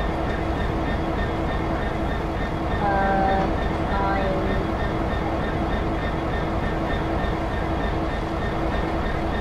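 A Class 66 diesel locomotive runs in Train Simulator, with a steady engine rumble and rolling rail noise throughout and a brief tonal horn-like sound midway.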